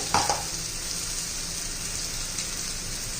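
A green paste of roasted coconut, ginger, garlic, green chili and cumin sautéing in oil for chicken kharda, a constant close hiss of frying with a brief clatter of stirring at the start.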